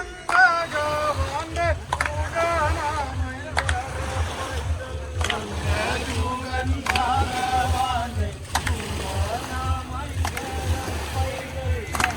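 A boat ride on the Pampa river at Aranmula, with water sloshing and an engine or motion rumble underneath while people talk and voices carry throughout.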